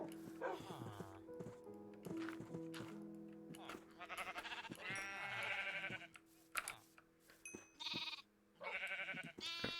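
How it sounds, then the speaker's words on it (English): Several sheep in Minecraft bleat repeatedly, their wavering cries overlapping in an uneven run of calls, near and clear, with some barking-like yips mixed in. "Right now I'm building up some sheep so I can shear them"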